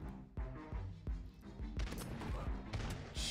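Cannon blasts in a video game: a series of heavy booming shots roughly every half second, loud and punchy, with denser crackling gunfire building toward the end.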